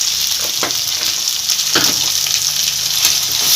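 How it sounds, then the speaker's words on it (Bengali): Spice paste with ginger and turmeric fries in a pan for a katla fish curry, giving a loud, steady sizzle broken by occasional scraping stirs. "এটা দিয়ে ভালো করে মশলাটা কষিয়ে নেবো যতক্ষণ না আদার কাঁচা গন্ধটা যাবে"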